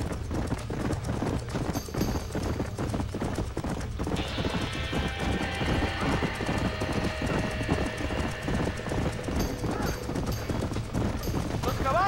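Horse hooves galloping in the video game Red Dead Redemption, with rapid rhythmic clip-clop beats running steadily throughout and a sustained tonal sound layered over the middle stretch.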